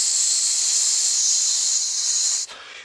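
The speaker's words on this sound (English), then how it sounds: "sounds like a gas leak" A steady, loud hiss like escaping gas inside an RV, continuous and high-pitched, cutting off abruptly near the end.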